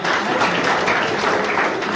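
Brief applause from a classroom audience during a technical lecture, steady clapping of several people lasting about two seconds.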